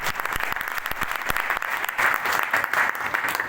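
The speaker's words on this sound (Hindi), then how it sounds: "इसके लिए जोरदार ताली बजा दो।" A seminar audience in Guna breaks into loud, sustained applause, dense clapping filling the whole stretch with no talk over it.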